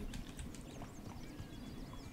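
A horse in labour in The Sims 4 makes soft, steady hoof clip-clops with faint bird-like chirps over a low rumbling game ambience, continuous and fairly quiet throughout.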